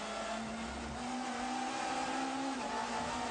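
Onboard a 1994 BTCC touring car on the run up to Abbey, the engine holds a strained, buzzing tone that climbs slightly, then dips briefly as it shifts up into sixth gear. It is fairly faint and has no voices over it.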